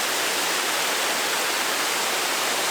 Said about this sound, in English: It's a waterfall in the desert.